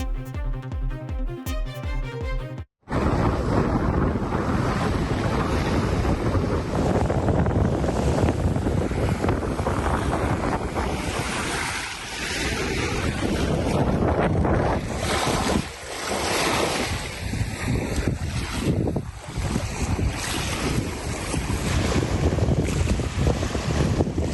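Wind-driven waves lap the shore of a brimming, flooded lake under strong, constant wind buffeting the microphone. The loud, steady wash follows a brief different sound at the start.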